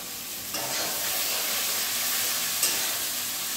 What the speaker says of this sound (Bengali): এবার আমরা পেঁয়াজটা ছেড়ে দিচ্ছি ছোলে পনিরের জন্য।